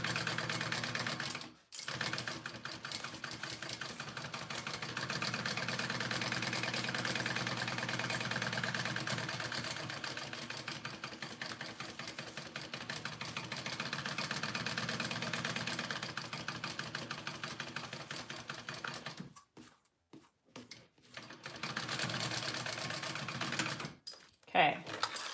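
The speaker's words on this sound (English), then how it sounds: "I'm just basting my exterior panel and my lining panel together" A domestic sewing machine basts an exterior fabric panel and a lining panel together for a sling bag, running in a long fast continuous whir with brief pauses near the start and end.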